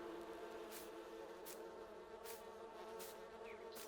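Honeybees buzz steadily around a hive in Farming Simulator 19, a continuous faint drone with several short brighter bursts recurring at a regular pace, with no voices.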